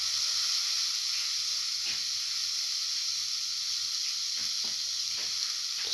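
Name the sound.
tomato pieces sizzling as added to frying pan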